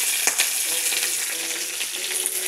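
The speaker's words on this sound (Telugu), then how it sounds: "బాణలు పెట్టి 1 స్పూన్ ఆయిల్ వేసి పచ్చిమిరపకాయలు, కరివేపాకు," Green chilies and curry leaves fry in a spoonful of oil in a pan, giving a steady, close hissing sizzle with a couple of soft knocks from stirring.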